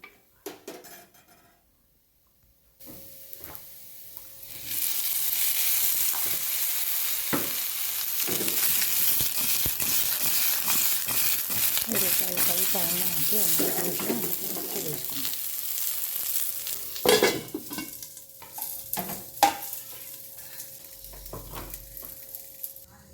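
Chopped ridge gourd sizzles in hot oil in a pan, a steady close frying hiss broken by the clatter and scrape of a utensil stirring against the metal and a few sharper clinks near the end.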